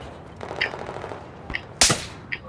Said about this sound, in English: Someone's trying to sniper me.